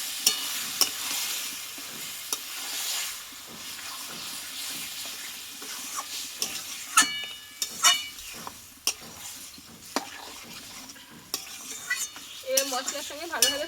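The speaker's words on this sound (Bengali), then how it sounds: "এবার মশলার সঙ্গে ভালোভাবে মটনটা কষিয়ে নিতে হবে" Mutton chunks stir-fried with spices in a pan, a steady sizzle under repeated scraping and clacking of a spatula, the stirring strokes coming irregularly and close by, with wetter bubbling toward the end.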